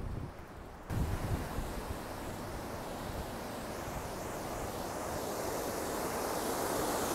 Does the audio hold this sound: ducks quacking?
no